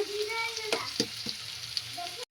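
Capsicum, onion and tomato frying in a pan for pasta give a steady close sizzle, with a few sharp scraping clicks of a spoon stirring through the vegetables.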